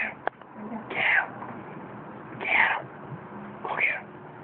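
Two house cats fighting and wrestling, letting out three drawn-out yowls about a second and a half apart over low background noise.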